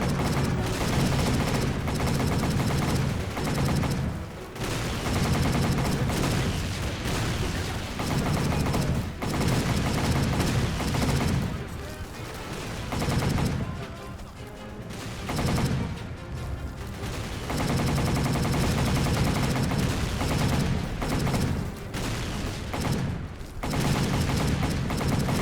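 Machine gun fire in a video game rattles in long, loud, continuous bursts with only brief pauses, heavy and close throughout, with no talking.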